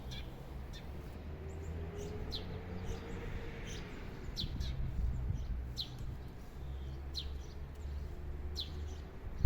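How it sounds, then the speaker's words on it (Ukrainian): Birds chirp and sing in scattered short calls, some near and some distant, over a low rumbling outdoor background with no talking. "послухайте, як співають птахи"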